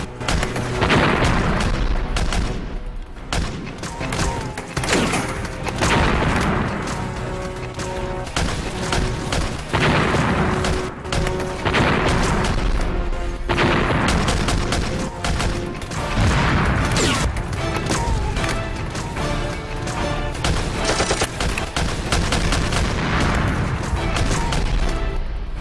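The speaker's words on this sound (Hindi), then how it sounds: "फायर जारी रखो" Sustained battlefield gunfire in a 1965 Pakistan–India war drama: dense, continuous bursts of shots and booms, loud and close, rolling on without pause.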